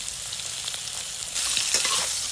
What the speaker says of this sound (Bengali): মাছ ভাজা হয়ে গেছে, এখন বেগুনগুলো ভেজে নেব।